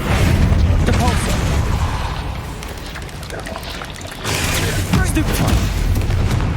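Depulso force spell cast in Hogwarts Legacy on PS5: a dense, loud whooshing rumble with booming bursts, dipping briefly midway before surging again to the end.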